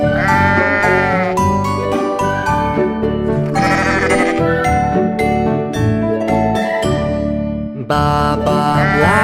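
Sheep bleats ring out over bright, tinkling nursery-rhyme music about farm animals, loud and continuous throughout.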